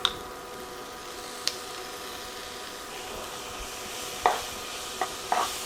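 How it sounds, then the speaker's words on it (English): Minced garlic with peppers, onions and black pepper is stirred in a skillet. A faint, steady sizzle runs throughout, broken by a few sharp scrapes and clicks of the spoon against the pan. "I'm going to stir this around and cook this for 1 minute."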